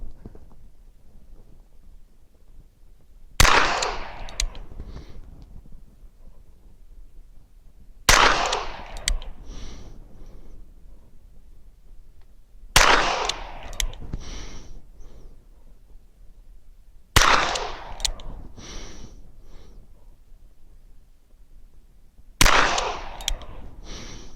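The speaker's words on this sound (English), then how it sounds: "We'll shoot a few rounds this way and see how it goes." Five sharp Kimber K6S DASA revolver shots ring out one at a time, spaced roughly four to five seconds apart, each a loud crack with a short echoing tail, with no talking.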